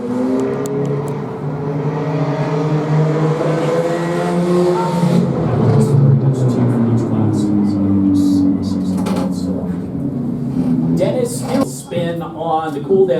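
Claimer-class race cars on an oval track in a heat race, their engines roaring loudly and continuously as the pack passes and accelerates, with rising and falling engine pitch.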